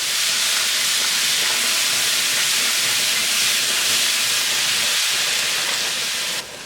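Ginger and garlic sizzle in a hot pan for a chicken and asparagus stir-fry, a loud, steady hiss that holds throughout and eases slightly at the very end.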